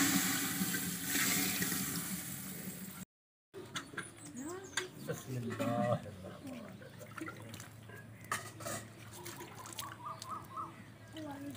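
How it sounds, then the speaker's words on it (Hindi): Water is poured into a pot of browned chicken, a loud, steady rushing splash lasting a few seconds, followed after a brief gap by quieter scattered bubbling and kitchen clatter, with some talking. "चिकन भी ब्राउन हो गया है अच्छी तरह, तो अब इसमें पानी डालेंगे।"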